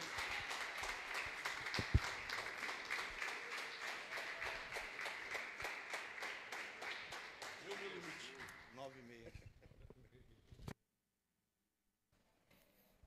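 A church congregation applauds the Lord, a steady, even rhythm of many hands clapping together for about nine seconds, fading out and ending in near silence, with a voice speaking over it early on.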